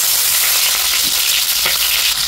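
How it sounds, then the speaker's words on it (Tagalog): Onions frying in cooking oil in a pan for Filipino beefsteak, a steady close, loud hiss with faint crackles and no voices. "maglalagay po tayo ng mantika. Ating onions guys."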